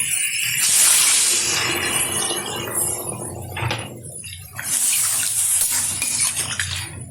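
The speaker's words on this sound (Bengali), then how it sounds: "দিয়ে দিচ্ছি পরিমাণ মতো জল।" Water is poured into a pan of shalpiya fish curry with taro and potatoes, a loud close splashing rush that comes in two bursts separated by a brief pause.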